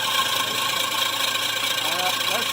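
An engine is cranked over by its starter with a continuous, gritty whirring drone that stays close and steady throughout, without catching or firing.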